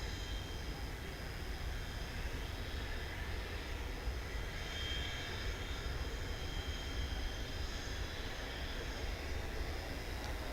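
A jet airliner roars steadily at DFW Airport during evening plane spotting, a broad, continuous engine rumble that holds at an even loudness throughout.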